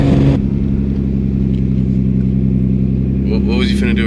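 Nissan GTR engine rumbling low and steady from inside the car, with a brief rising rev near the end as people talk over it.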